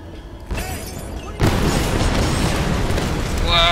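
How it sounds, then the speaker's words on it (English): Loud, sustained rumbling explosions in the video game Tomb Raider, a sharp boom striking and then a dense roar of blasts and debris continuing throughout. "Explosions!"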